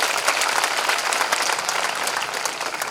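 Dense audience applause at a Shiv Sena party gathering in Malegaon, with many hands clapping steadily and loudly for the full three seconds and no speech over it.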